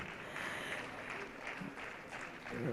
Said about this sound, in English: please keep clapping for them